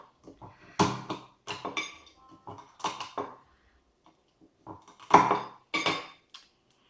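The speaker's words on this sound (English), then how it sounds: "with our knife we actually cut it open here to just get the meat out of the crayfish" A knife cuts open a boiled crayfish at a Nordic crayfish party, producing scattered close clicks, cracks and metallic taps of cutlery against shell and plate, separated by short silences.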